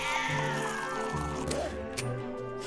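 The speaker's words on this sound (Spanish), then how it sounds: "Hay un montón de gatos aquí." A cat meows in the video game Postal: Brain Damaged, a drawn-out wavering yowl over a busy game background with someone talking, followed by a shorter falling meow.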